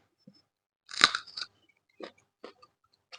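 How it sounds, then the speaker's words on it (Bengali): Crisp crunchy bite into a chili pepper during a home Bengali lunch, one sharp crunch followed by a few softer chewing crackles, close and alone. "লঙ্কাটা একটা কামড় দিই"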